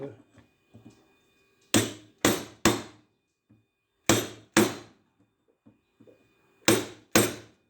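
Hammer striking a chisel held on lead-sheathed electrical cable, seven loud, close metallic blows in pairs and triplets, with faint handling knocks and quiet talk between.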